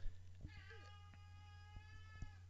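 A cat meows with a drawn-out, wavering call, fairly close and clear over a steady low electrical hum, with faint background voices.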